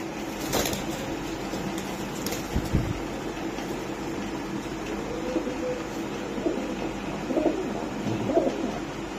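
Several pigeons coo softly and repeatedly in a pigeon-selling setup, low throaty calls set against a steady background hum and a few scattered knocks.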